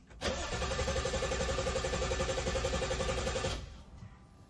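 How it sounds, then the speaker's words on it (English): A BMW N55 engine cranking on its starter to prime oil, a steady loud whirring churn held for about three seconds, then cut off abruptly, alone without talk. "I'll do one cranking."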